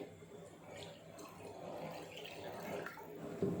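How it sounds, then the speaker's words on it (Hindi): Water runs and splashes steadily into a mixing bowl while making beef nihari, a soft continuous trickle with faint background sounds throughout. "अब हम इसी बॉल में थोड़ा सा पानी डालेंगे"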